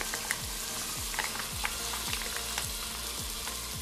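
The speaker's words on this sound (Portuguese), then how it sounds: "Quando ela começa a dar uma pegadinha aqui embaixo, aí eu venho com o nosso molho de tomate." Tomato sauce poured over browning meat in a pan, a steady close sizzle with repeated scraping stirs running evenly underneath, no talking.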